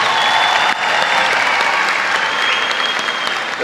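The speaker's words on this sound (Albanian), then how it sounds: "ju lutëm për një duartrokitje dhe një përshëndetje për studentët e stomatologjisë" Sustained, loud applause from a large audience at a 2023 AAB university graduation ceremony honoring dentistry students, a dense, steady wash of clapping with crowd murmur beneath, continuous for several seconds.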